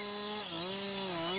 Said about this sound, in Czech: Před přiložením pily do řezu přidejte vždy plný plyn.